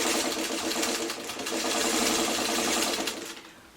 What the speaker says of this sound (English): now I'm sewing with the seam up because I need that seam to stay open